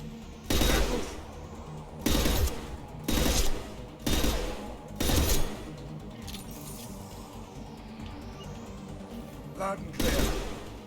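Burst-fire rifle shots in the video game Mass Effect: five loud broadband bursts at roughly one-second intervals, then a quieter stretch and one more burst, over a low game background with faint voice chatter.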